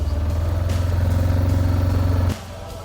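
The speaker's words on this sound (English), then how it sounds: "Always a vehicle coming when you start doing stuff like this." A road vehicle goes by, its engine a steady loud low rumble close at hand that cuts off sharply near the end, leaving quieter background.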